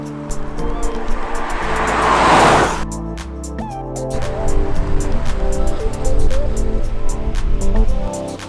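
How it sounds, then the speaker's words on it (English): Peugeot 508 GT driving on the road, a steady engine and road rumble inside the cabin with a loud rushing swell early on, then continuing drive noise under faint clicks and knocks. "here we are out on the road in the Peugeot 508 GT"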